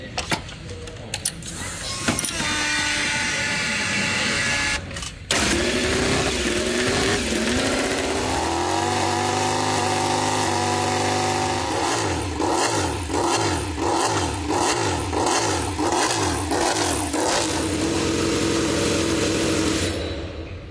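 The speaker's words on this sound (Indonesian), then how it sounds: "dengerin dulu gimana sih suaranya dari mesin 850cc-nya Honda" Honda 850cc MotoGP motorcycle engine revving loudly and close, with rising and falling harmonic sweeps and rapid blips of the throttle running throughout, no talking.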